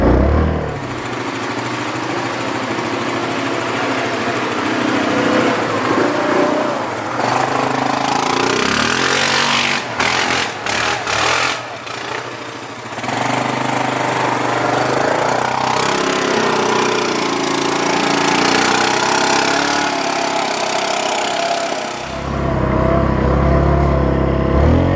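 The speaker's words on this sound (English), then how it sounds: "If you guys see Evan driving fast through here and think it's a little not safe" A Yamaha Grizzly ATV drives along a wooded trail near a small homemade bridge, its engine droning loud and steady throughout with brief dips and revs as it passes, and no talk.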